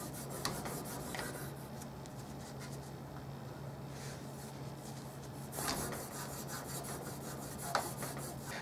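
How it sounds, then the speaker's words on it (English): Hand buffing of a brass trumpet leadpipe with buffing compound on a cloth, a steady close rubbing rasp with a few louder strokes over faint background hum. "So I'm going to put some on that, and I'm going to use that to finish up the buffing."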